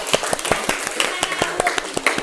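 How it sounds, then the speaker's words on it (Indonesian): A small group in a classroom claps for the student team Bintang Kutub, a run of distinct, fairly close hand claps in uneven rhythm, with brief voices mixed in. "Kasih tepuk tangan untuk mereka."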